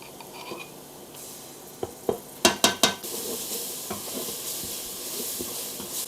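Onions fry in oil with flour and a spoonful of spicy sauce, making a soft steady sizzle. A quick run of sharp clinks from a utensil against the pot rings out midway, and the frying continues afterward without any talking.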